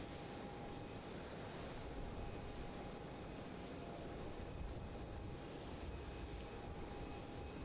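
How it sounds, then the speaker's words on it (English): A Vietnam Airlines Airbus A350 jet approaches Melbourne Airport, heard as a faint, distant, steady engine rumble and broadband roar that holds even throughout, with no talk. "I think this is the first time we're getting the A350 on the stream."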